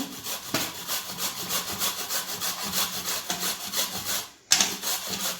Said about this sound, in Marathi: आता आपण या गुळाला किसून घेणार आहोत।